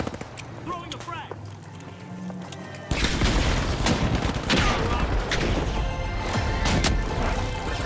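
A frag grenade goes off in The Finals, starting abruptly with a heavy, sustained roar of crashing debris and gunfire that stays loud to the end, while players talk throughout.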